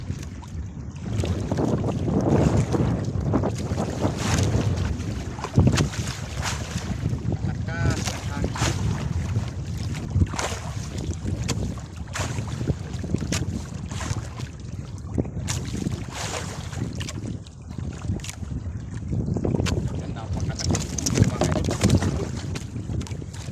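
Strong wind buffets the microphone on open water during a grouper fishing trip, with a constant rushing roar, a boat's hum underneath, and a voice talking at times.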